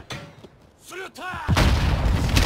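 Grenade blast in a tactical military shooter game: a sudden loud, broad roar that swells and rumbles on for about a second, following tonal game sounds and voice-like chirps.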